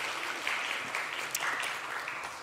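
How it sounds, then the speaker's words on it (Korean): A church congregation claps to welcome a member back, a steady patter of many hands at moderate volume that runs without a break. "우리 박수로 환영하겠습니다."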